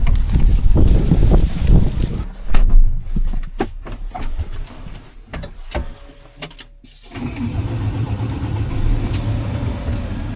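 A semi truck used for hauling lime on a farm idles with a steady, loud low rumble, which briefly drops to a thinner, quieter sound before the full idle returns.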